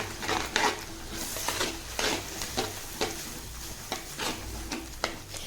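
Beaten eggs with yolks stirred into kodo millet in a pan, a soft continuous sizzle broken by regular scraping strokes of a spoon against the metal.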